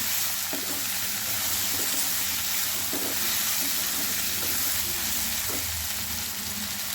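Potatoes fry in a pan over a medium flame, giving a steady, fairly loud sizzle with occasional stirring scrapes as the vegetables cook.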